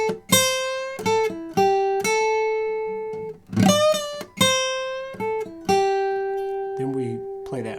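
Electric guitar plays two minor pentatonic phrases with a rake, clear sustained notes and bends in short rhythmic groups, close and alone.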